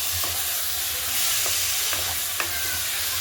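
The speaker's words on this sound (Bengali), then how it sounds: "এই পর্যায়ে কুচনো ক্যাপসিকাম দিয়ে দেবো। ক্যাপসিকামটা দিয়ে ভালো করে কষিয়ে নিতে হবে।" Chopped capsicum sautéing in spice paste for a tilapia curry, producing a loud, steady sizzle with occasional soft scrapes of a stirring spoon, close and without speech.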